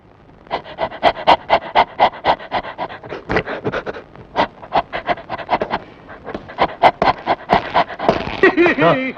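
A voice rhythmically imitates a dog, quick barking and panting syllables in a lively patter, close and loud, ending with a short vocal flourish.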